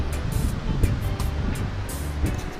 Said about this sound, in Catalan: la mar